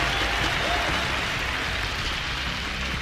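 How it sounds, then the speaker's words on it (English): Crowd at an esports arena for a Counter-Strike match at BLAST Pro Series Copenhagen 2018, Astralis vs FaZe on Overpass, cheering as a steady, loud, dense roar of noise with no distinct voices. "And the crowd is loving it."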